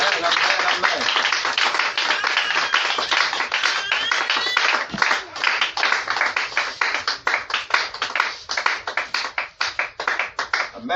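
A church congregation at a tabernacle service claps together in praise, producing dense, continuous, rhythmic applause that is loud and close, with voices mixed in.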